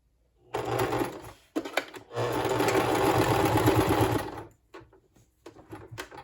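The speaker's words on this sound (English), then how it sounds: "we're actually going to remember to do the reverse stitch" Sewing machine stitching fabric for a handmade flower, running in a reverse stitch: two loud, steady whirring bursts with a short pause between, then brief stop-start pulses as the machine slows.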